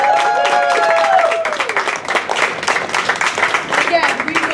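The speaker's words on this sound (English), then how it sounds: "Give yourselves another round of applause." A crowd claps for junior triathletes in Bermuda. A voice speaks at the start, then a burst of lively, moderately loud applause takes over for the rest.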